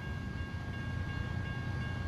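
Log-laden SCS train wagons roll past in American Truck Simulator, a continuous heavy low rumble at close range, steady and unbroken with no speech.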